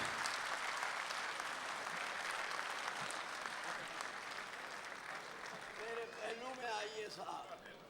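Audience applause at a Republic Day kavi sammelan and mushaira in Dubai, as Farooq Shaikh is welcomed on stage: dense, sustained clapping from a large crowd fills the hall, with a voice briefly rising over it near the end.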